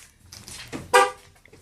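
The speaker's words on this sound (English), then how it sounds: "flashes the parking lights, honks a horn just like the manufacturer one will" A 2001 Ford Ranger's aftermarket remote-start system sounds its horn on remote lock, giving one short, loud honk about a second in after a few quieter clicks and rustles.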